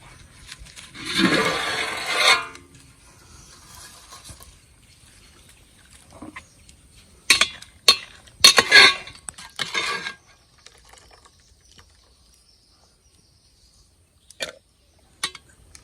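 Half-boiled papaya pieces scooped out of a cooking pot, heard as a burst of water splashing and dripping followed by several scraping clinks of a utensil against the pot, with quiet gaps between.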